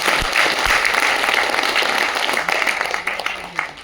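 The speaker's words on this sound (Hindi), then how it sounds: "बजाओ अपने लिए तालियां।" A crowd at a Hindi-language political training gathering claps for itself, a brisk burst of applause with individual claps standing out near the start before it thins toward the end.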